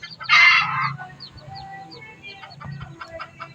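A bantam hen with five newly hatched chicks, outdoors: one loud close squawking cluck opens, followed by soft peeping chirps and quieter clucking.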